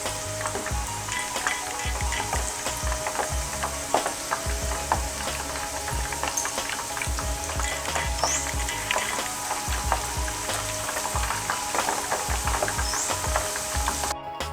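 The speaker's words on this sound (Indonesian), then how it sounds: "Goreng dengan api sedang hingga kuning keemasan." Steady crackling and sizzling of breadfruit chips frying in hot oil over medium heat, with occasional stirring clatter, continuous and moderately loud.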